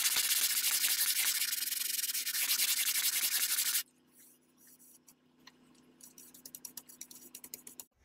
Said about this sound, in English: I'll pull the sandpaper tight over the curve.